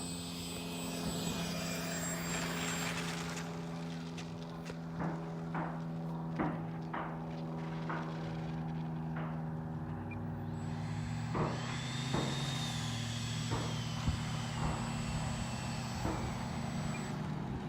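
A Freewing 90mm F-4 RC jet whines steadily at a distance, its turbine tone rising and shifting as it passes, with occasional faint clicks and knocks in the background.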